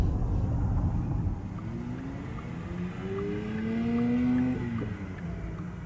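A 2024 Porsche Cayenne E-Hybrid plug-in SUV driving through the city, heard from inside the cabin as a steady road and drivetrain hum with rising and falling motor whine and no speech.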